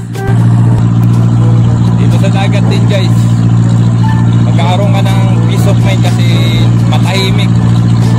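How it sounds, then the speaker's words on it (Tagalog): A boat engine and exhaust drone steadily and loudly at sea on a seafood-catching trip, a constant low rumble with a strong hum running beneath someone talking throughout. "Marinig ko lang yung tunog ng makina ng tambutso guys."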